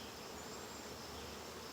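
Honey bees buzzing steadily while nucs are being split into boxes, a dense, even hum close by with no voices.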